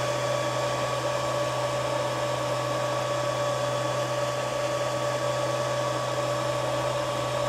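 A 3D printer steadily printing and bridging across a part for a BMW K75 motorcycle, its motors giving a constant close whirring hum with a fixed low drone and a high tonal whine.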